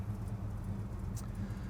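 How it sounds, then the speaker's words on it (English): 1969 Dodge Super Bee engine idling, a low, even rumble with a soft regular pulse, steady and moderately quiet throughout, with no talk over it. "Car's idling nicely"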